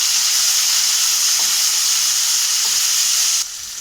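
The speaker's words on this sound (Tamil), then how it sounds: "வெங்காயம் வதங்கிச்சு இப்போ வந்து ஒரு மூணு பெரிய தக்காளி பழுத்த தக்காளியாக ஆட் பண்ணிக்கிறேன்" Ripe tomatoes hitting fried onions in a pan for ivy gourd curry, giving a loud, steady sizzle and hiss with a few soft stirring scrapes, then the frying drops suddenly quieter near the end; no one speaks.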